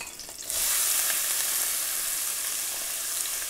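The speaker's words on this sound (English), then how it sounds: "It's going to start splattering a little bit" Chicken curry ingredients burst into a loud, steady sizzle as they hit the hot pot, a sudden onset followed by continuous close spattering and crackling, with no voices.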